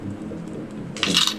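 Metal coins from the ROAM tabletop game clink together as they are taken, a bright close jingle near the end after quiet handling, with no voices.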